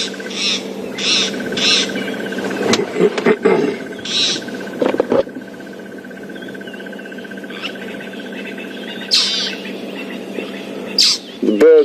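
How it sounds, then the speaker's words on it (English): A magpie shrike calls at dawn on a safari drive in the African bush, repeated clear whistled notes in short bursts, mid-distance, over a faint steady hum and other birds, with occasional thumps and rustles nearby. "panned across to a magpie shrike, and that's one of the birds you can hear calling now."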